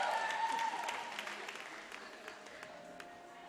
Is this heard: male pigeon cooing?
no